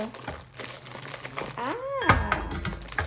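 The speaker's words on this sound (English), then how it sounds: "Scissors to the rescue." Plastic crinkles and rustles as a bag is cut, with a short scissor snip and a brief voice fragment partway through.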